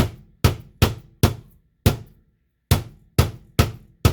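Beef jerky strips pounded flat, nine heavy dull thuds in an uneven rhythm, close and loud, each ringing out briefly, with a short gap before the final four.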